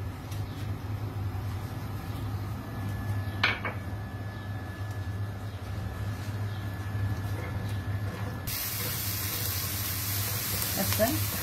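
Onion frying in oil in a pan, a steady low sizzle with occasional clinks of utensils against the pot and a brighter hiss surging near the end.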